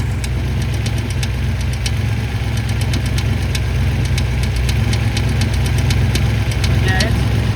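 On a Chevrolet K5 Blazer, a wobbling starter gear taps the flywheel, a rapid, regular metallic ticking over the loud, steady rumble of the idling engine, heard up close.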